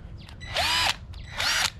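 A small carbide bit drills into a Mustang GT's 4.6L engine in two short, shrill high-pitched bursts with a brief pause between them, close and fairly loud, with no talking.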